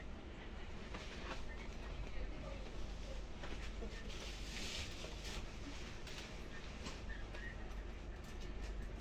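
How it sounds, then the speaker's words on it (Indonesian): A train rolls into a station with a steady, heavy rumble and faint rhythmic wheel clatter, heard from nearby at an even level throughout. "Oh, ada kereta mau masuk."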